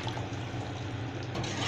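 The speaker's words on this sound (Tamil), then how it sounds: "2 கப்பில் நாங்கள் 2 கப் ரவை எடுத்ததுனால 3 கப் வந்து தண்ணி ஆட் பண்ணிக்கிறோம்." Water is poured into wheat rava (semolina) for upma, a steady close splashing fill of liquid into the pan running throughout, with no voices.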